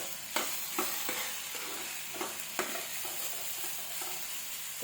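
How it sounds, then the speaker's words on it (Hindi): Food roasts in a pan over low heat with a quiet, even sizzle, marked by a handful of sharp spoon taps and stirring scrapes spaced out over the clip, with no talking. "तो देखिए फ्रेंड्स, मैं इसे भूनने के लिए रख देती हूँ"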